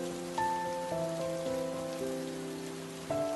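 Rain pouring over village fields in an animated cartoon makes a steady, even hiss that continues throughout, with a soft tonal melody of sustained notes layered over it.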